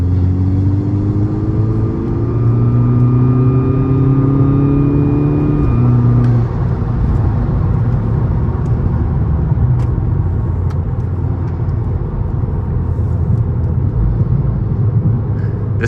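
A VW Golf Mk6 GTI drives along a road, engine humming steadily and close with a rising note early on before settling into an even, continuous drone and road rumble.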